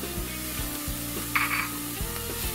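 Jalapeno, garlic and ginger hitting onion in a hot pan, giving a steady crackling sizzle, with utensil scrapes and stirring knocks recurring under it and no talking.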